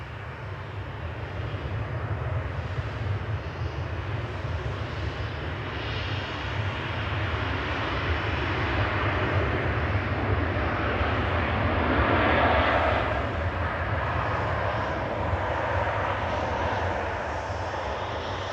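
A jet airliner arriving at Manchester Airport from Glasgow makes a steady engine rumble and roar, growing somewhat louder toward the middle as it nears, then easing, with wind in the background.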